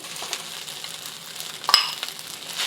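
Fried rice with egg and oyster sauce stir-fried in a hot pan gives a soft, steady sizzle, with a sharper scrape or clatter near the middle as the spatula moves the rice. No voices are heard.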